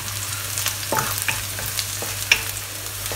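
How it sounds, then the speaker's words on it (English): Ingredients for Thai pineapple fried rice with chicken and shrimp frying and being stirred in a pan, a steady close sizzle broken by a few sharp scraping clicks of the utensil, with no voices. "Fry them for a little while until you see the color change to a very, very light brown color"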